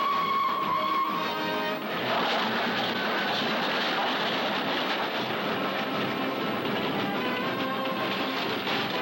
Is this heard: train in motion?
yes